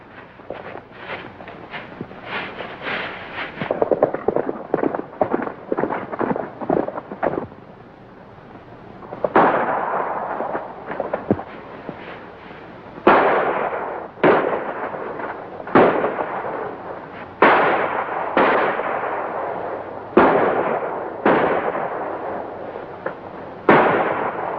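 Gunfire rings out in a 1938 western movie shootout: loud, booming shots crack repeatedly across a long exchange, some in rapid clusters and others spaced apart, with no talk over them.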